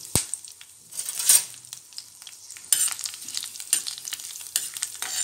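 Dry red chillies, along with green chillies, fry lightly in a pan of hot oil as the base for a chana curry, giving a steady soft sizzle broken by scattered crackles, a sharp tap near the start and light stirring scrapes.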